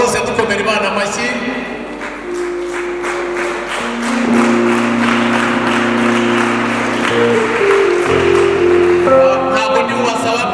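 Wedding guests applaud at the ceremony, a dense patter of clapping lasting several seconds and mixed with sustained music tones, fairly loud throughout.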